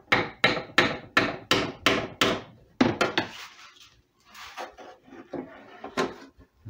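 A wooden wedge is tapped under a clamp on the redwood top bracing of a guitar, giving a quick series of about eight sharp, close knocks, then softer scattered taps and handling noises.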